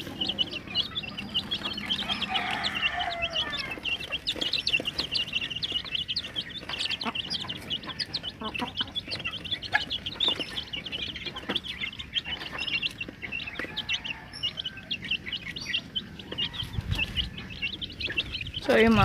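Chicks around five days old and hens cluck and peep in a backyard breeding pen, with steady chirping and clucking running throughout, busy and fairly close, plus occasional rustling.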